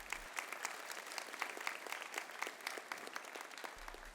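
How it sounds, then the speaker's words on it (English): Applause from the audience at a high school honor awards assembly, a dense, even patter of many hands sustained for several seconds, fairly soft and alone without talk. "let's give our parent students a big round of applause."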